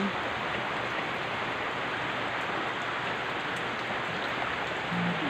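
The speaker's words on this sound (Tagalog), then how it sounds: "pinakita ko lang po sa inyo na umuulan" Heavy rain pours down steadily near a flooded backyard by an okra garden, a dense continuous hiss with no pauses and no talking.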